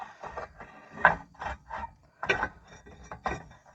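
A brake rotor on a 2001 Jeep Grand Cherokee is worked onto the wheel hub studs, giving a string of soft metallic scrapes, clinks and rubbing taps in an irregular rhythm at close range with no talking.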